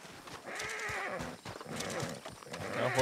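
A horse in Red Dead Redemption 2 gives a loud, drawn-out whinny and then a second neigh, with clopping hooves throughout at close range.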